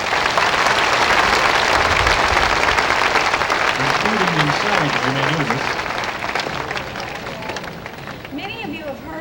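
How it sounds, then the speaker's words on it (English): A crowd at a dolphin show applauds in a loud, dense burst that slowly thins. A voice speaks over it toward the end, and squeaky whistles, likely from the dolphins, rise through the fading clapping. "they love to hear applause from everyone"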